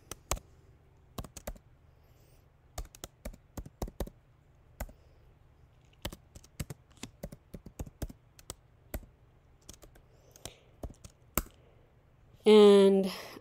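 Keystrokes on a computer keyboard while a document is set up, coming as irregular clicks spread across the clip in short bursts and single taps, with a brief loud burst of voice near the end.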